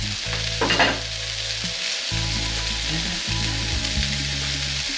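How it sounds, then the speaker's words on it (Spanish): Bacon browns in a pan for carbonara sauce, giving a steady close sizzle broken by repeated scraping stirs of a utensil against the pan. "Primero añadimos el bacon, que se vaya dorando un poquito."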